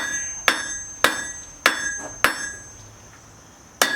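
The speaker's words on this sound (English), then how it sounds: "Hammer's coming right down. I'm not using the edge of the hammer, I'm using the flat face." Blacksmith striking hot metal squarely with the flat face of a hammer on an anvil: five sharp ringing clanks at a slow, steady rhythm, each with a bright metallic ring that decays, loud and close.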